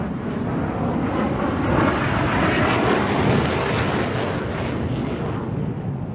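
A Mirage 2000-9 fighter jet roars overhead at the Dubai Air Show, a loud sustained broadband engine rumble that swells slightly mid-pass, heard alone without talk.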